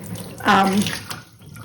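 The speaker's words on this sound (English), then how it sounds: "we're just going to dump this water out. This sugar water out." Sugar water being poured out of a jar of kefir grains, a brief splashing pour into a sink that rises and fades within about a second.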